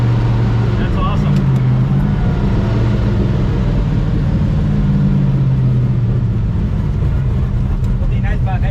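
A Tri Five Chevy race car drives on the street with a steady, deep engine rumble and road noise close by, the engine tone shifting slightly in pitch, as people talk inside.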